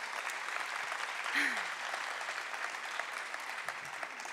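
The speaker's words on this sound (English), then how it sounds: "let's give another round of applause for Jenny" Audience applause at an Arizona Athletics Title IX panel, steady clapping from a crowd with a brief voice rising over it.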